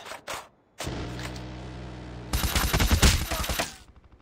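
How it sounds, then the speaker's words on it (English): A sentry gun in a shooter video game fires a rapid burst of loud automatic shots near the end, after a few short sharp blasts and a held mechanical tone. "Sentry gun deployed."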